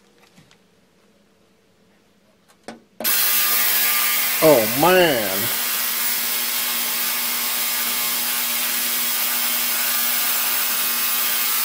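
An ultrasonic cleaner switches on after near silence and runs with a loud, steady electric buzz and high whine. A person briefly exclaims partway in.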